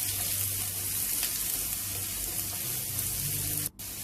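Chopped onion sautéing in a pan for a Spanish omelet, a steady soft hiss of frying that runs evenly and ends abruptly.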